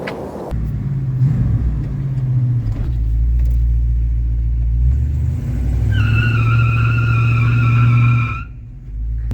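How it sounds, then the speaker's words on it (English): A 1972 Chevy El Camino does a burnout: a deep, loud engine rumble is joined by a piercing, steady tire screech partway through that cuts off abruptly near the end. "Kids are not impressed with my burnouts."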